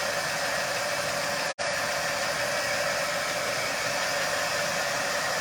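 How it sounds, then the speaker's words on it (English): A hair dryer drying Mod Podge on a craft photo cube blows with a steady, loud whooshing roar, cutting out for a split second before resuming and continuing evenly. "So I'm gonna dry the Mod Podge. So I've got my dryer here."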